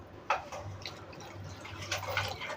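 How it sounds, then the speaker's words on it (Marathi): Hot water splashes and drips into a pot of fish curry in a few uneven bursts, close by and fairly soft, with no voices. "आपण ह्याच्यामध्ये गरम पाणी टाकून घ्यायचं आहे"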